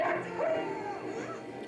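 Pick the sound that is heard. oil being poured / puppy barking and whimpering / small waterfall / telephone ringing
puppy barking and whimpering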